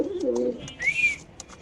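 A pair of checker Damascene pigeons coos low and rolling for about half a second, then a sharper, higher call rings out, with a few faint clicks after.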